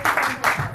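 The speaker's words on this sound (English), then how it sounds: "let's give Estelle a big clap" An audience at a poetry stage night applauds to welcome a poet, a short burst of dense clapping.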